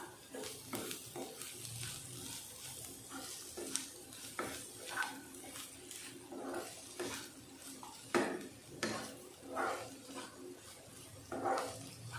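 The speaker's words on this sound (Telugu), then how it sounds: "పచ్చి వాసన పోయే వరకు మనం ఫ్రై చేసుకుంటే సరిపోతుంది" Dondakaya (tindora) curry with coriander powder and chili powder fries in a pan. A soft sizzle runs throughout, with frequent clinks and scrapes of a metal spoon stirring against the pan at irregular moments, and no talking.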